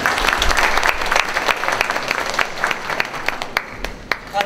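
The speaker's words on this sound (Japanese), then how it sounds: "拍手でお迎えください。" An audience at a boat racing Grand Champion opening ceremony claps steadily, a dense, lively patter of many hands that carries through the whole stretch and thins slightly toward the end.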